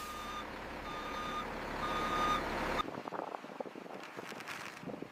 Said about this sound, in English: The truck docks at the Scotch whisky barley intake.